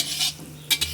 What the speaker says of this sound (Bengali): কিছুক্ষণ ভাজা হবে অল্প আঁচে